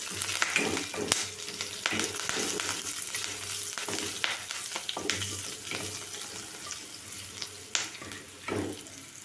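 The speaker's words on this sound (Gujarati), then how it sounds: "વઘારને એકદમ સારી રીતે મિક્સ કરી લઈશું" Spices with asafoetida crackle and sizzle in hot oil while a spoon scrapes and stirs the pan with intermittent clinks; steady close frying noise throughout.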